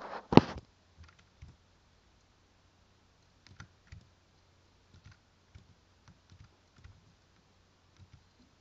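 Computer keyboard and mouse clicks while editing a Dissidia 012 game mod, one sharp loud click followed by sparse, quiet, irregular taps and clicks spread across the rest.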